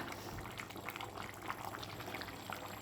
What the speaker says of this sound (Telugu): మూత తీసాను తెగ ఉడికిపోతుంది